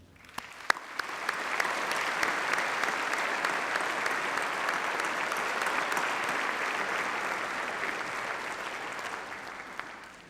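A large graduation ceremony audience applauds the university staff, a sustained, even wash of clapping from a big crowd in a hall, steady throughout with no speech over it.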